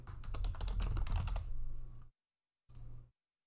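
Rapid typing on a computer keyboard, a dense run of close clicks for about two seconds, then a pause and a second short burst of keystrokes.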